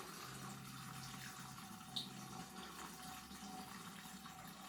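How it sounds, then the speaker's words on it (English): Dirty paint thinner being poured into a bucket of settled paint, a faint, steady liquid stream with a low background hum and one small splash midway, with no talk. "I'm going to pour all this dirty paint thinner in here, just till it gets to the paint"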